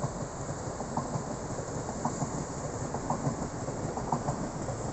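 A steady, faint rumble of a Swiss high-speed train at Padova railway station, with soft rhythmic clacking and a constant hiss, heard from a distance atop a multi-storey car park.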